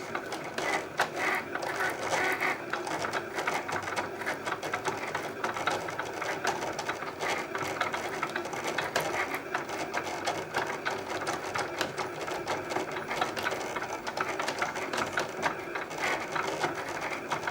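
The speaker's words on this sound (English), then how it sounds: "I think the Cricut does a really good job cutting out the vinyl" A Cricut Explore cutting machine kiss-cuts high gloss vinyl, its carriage whirring and ratcheting in quick repetitive mechanical bursts, close and steady throughout with no talking.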